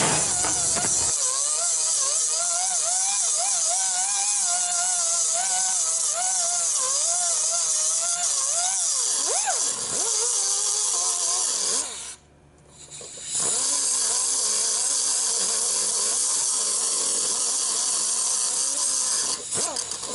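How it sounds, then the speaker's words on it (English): A power grinder wears down the flat part of a transmission gear shift linkage bushing on a Cadillac STS4, a steady whining, buzzing grind that wavers in pitch and stops briefly once before resuming loud and close. "all you do is just grinding this all off"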